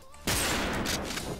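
Rapid, loud gunfire erupts suddenly in a Call of Duty match and rattles on as a dense burst for over a second, close and harsh.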